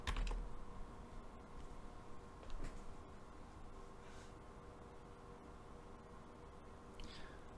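Quick bursts of typing on a computer keyboard, soft rapid key clicks up close with short pauses between runs, quiet overall with no speech.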